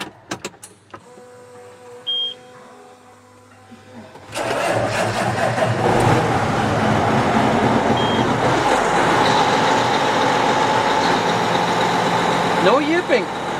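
A farm tractor engine starts up after a quiet stretch and keeps running loud and steady, rumbling close by with mechanical rattle for the rest of the time, while a person speaks over it.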